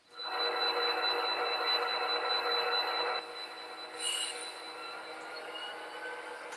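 An Athearn HO scale model train running along its track, a steady close whirring hum and rolling clatter that drops to a quieter level partway through, with a brief higher squeal near the end and no talk.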